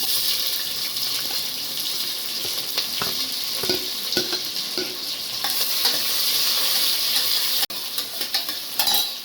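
Onions and cloves fry in a pan for mushroom biryani, a loud steady hissing sizzle close by with intermittent scraping stirs and a sharp clank near the end, with no speech.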